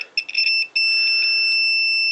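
An electrical continuity tester beeps while checking the brown conductor end to end in a 1970s Anglepoise lamp's wiring: a few short pips, then one steady, loud, pure tone held to the end.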